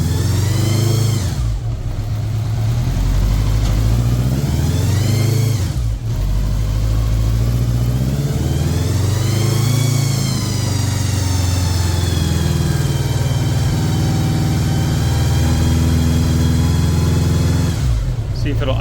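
A Honda GL1100 GoldWing motorcycle engine runs loud and steady after warming up, with its pitch rising and falling through gentle revs before settling toward idle.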